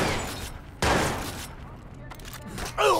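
Two loud bursts of gunfire from an armed enemy at Brandon Docks in Watch Dogs, one early and one near the end, separated by quieter game noise and faint background sounds.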